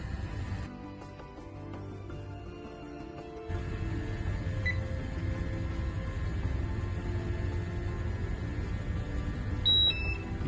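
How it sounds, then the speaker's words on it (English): An air quality monitor's alarm sounds, a thin, steady electronic tone that starts partway through and holds over a low background hum. A couple of brief higher blips follow near the end. "You can hear the alarm going off."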